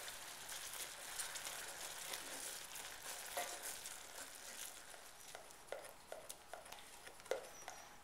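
Caramel sauce made with heavy cream and butter sizzles softly in a pan while a utensil stirs it, scraping and clinking now and then. The sound is faint and close, with no talk.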